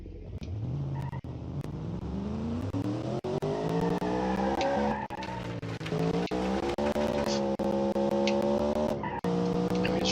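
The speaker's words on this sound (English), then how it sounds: "And we just drift out of it." A light Cosmo street car drifts in a racing video game, its engine droning steadily as the tires squeal in a long, wavering screech with rising and falling pitch, with no talk.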